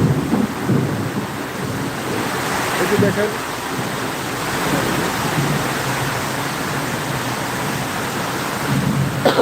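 Heavy rain pours steadily with low thunder rumbling through it in a storm with strong wind at Phulpur, loud and continuous, and a voice speaks briefly over the downpour.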